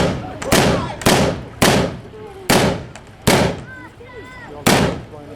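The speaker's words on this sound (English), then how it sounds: "High rate of fire." Military weapons demonstrated at a military show fire in loud, sharp bursts: six heavy bangs spaced roughly a second apart, each with a ringing decay, while a voice talks faintly between shots.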